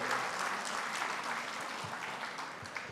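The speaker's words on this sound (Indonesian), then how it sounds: "Tepuk tangan untuk Mas Anin." Audience applause at the Kadin national leadership meeting in Indonesia, a dense steady patter of many hands clapping for about three seconds at moderate loudness, with no voices on top.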